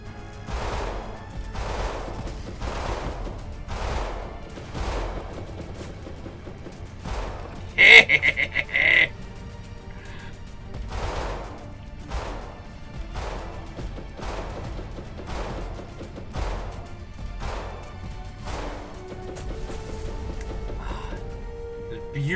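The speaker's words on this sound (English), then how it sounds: "Beautiful barrage after barrage." Repeated naval gun barrages in the video game Waves of Steel, a steady run of heavy booming shots, roughly one every second or so, at moderate loudness over a low rumble, with a brief sharp burst partway through.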